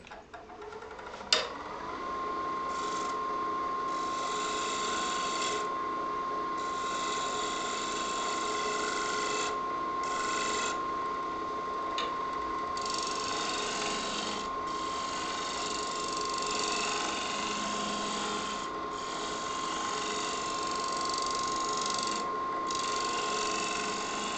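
Woodturning tool making a shear scraping cut on a spinning lathe workpiece, a steady mechanical whir with a constant tone and a faint scraping hiss that briefly cuts out now and then.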